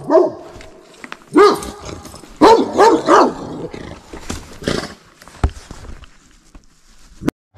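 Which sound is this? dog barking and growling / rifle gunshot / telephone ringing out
dog barking and growling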